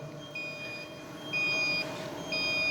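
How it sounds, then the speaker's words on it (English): Door sensor alarm sounding after the door is opened, a repeating high electronic beep tone in short bursts over low background hum, fairly near. "So to turn this alarm off,"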